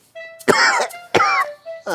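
A feverish, unwell person coughs twice in harsh bursts, close and loud, over a steady tonal background.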